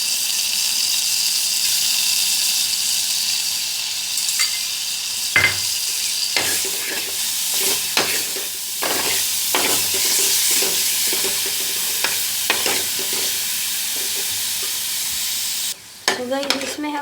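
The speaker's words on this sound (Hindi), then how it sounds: "ये मैंने लहसुन और प्याज जो है उनको ग्राइंड किया था, ये हम लोग इसमें डाल देते हैं।" Ground garlic and onion paste drops into a hot pan and sizzles, with steady frying hiss and repeated scraping stirs of a utensil, close and clear without talk.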